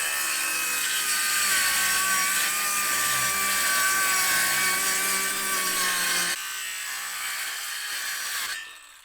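A power saw cuts through plywood sheets for a van ceiling, a steady high whining buzz that runs continuously, drops in pitch partway through and then stops near the end.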